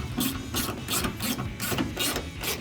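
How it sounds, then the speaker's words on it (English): A ratchet fitted with a T15 Torx bit drives screws back into a 2019-2025 Sierra 1500 LED tail light, giving a close, steady run of rhythmic clicking strokes repeated about eight times. "T15 screws back into the light. Using a T15 Torx bit and a ratchet."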